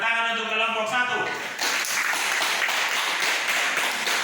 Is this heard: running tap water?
no